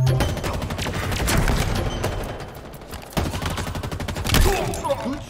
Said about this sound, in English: Good shooting, Spartan.